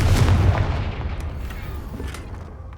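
A Confringo spell blast in Hogwarts Legacy, a single loud booming burst at the start that rolls off into a fading rumble.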